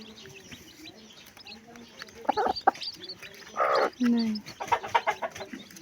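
Newly hatched chicks chirping in their nest beside a hen, with soft peeping and a few louder clucking bursts, while a person talks over them.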